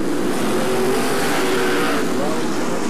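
Dirt late model race cars roar around the Atomic Motor Speedway track, a dense continuous engine din filling the whole stretch, with a commentator talking over it.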